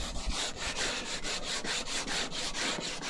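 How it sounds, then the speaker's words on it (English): Old paint scuffed with an abrasive before repainting, a close, loud, rhythmic back-and-forth rasping of about a dozen even strokes with no talk. "I'm scuffing the paint that's already on it"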